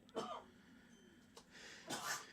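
A quiet room carries a couple of short breathy bursts, ending in a sharp, noisy sneeze near the close, faint and nearby.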